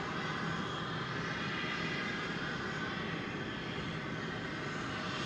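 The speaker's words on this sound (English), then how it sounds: "An Airbus A321 Neo. Took off just about 3 hours ago," Airbus A321neo airliner circling near DFW airport on a go-around, a steady distant engine roar that holds at an even level throughout with no voices.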